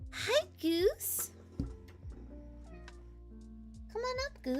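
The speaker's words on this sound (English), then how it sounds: "You heard her meow." A pet cat gives a few short meows close to a microphone, rising cries spaced across the clip, with a person talking softly in between.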